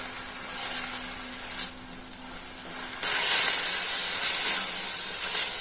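Ridge gourd pieces sizzle steadily in hot oil, uncovered, the hiss swelling louder halfway through as they're stirred, close up with no voices.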